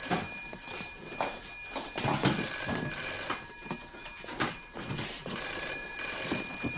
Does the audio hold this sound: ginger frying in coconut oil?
no